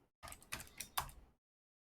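Someone types on a computer keyboard: a short, faint burst of four or five quick key clicks, then silence.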